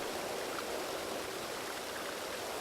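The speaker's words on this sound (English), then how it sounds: "Fresh water from a mountain source." A mountain stream of fresh spring water rushes steadily in The Dark Eye: Chains of Satinav, a continuous broadband flowing hiss with no talking.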